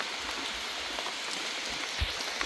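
Steady wash of rain pattering on surfaces outdoors, the first rain of the year in rural Thailand, continuous and close with faint scattered drips and no voices.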